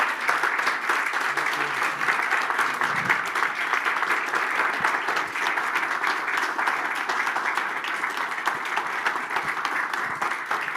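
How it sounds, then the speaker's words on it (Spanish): Sustained applause from a large audience, thick and even, continuing without pause for several seconds. "Les pido un fuerte aplauso"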